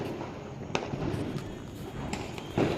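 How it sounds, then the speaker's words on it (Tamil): Firecrackers bursting during a Diwali celebration, several sharp pops scattered over steady outdoor crackle and rumble, fairly distant with one louder burst near the end. "இந்த பக்கத்தில் டப்பு டப்புன்னு வெடிக்குது."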